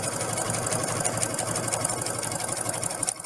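A sewing machine runs steadily in a fast, even mechanical whir while stitching a zigzag seam along the presser foot, close and continuous for the whole stretch.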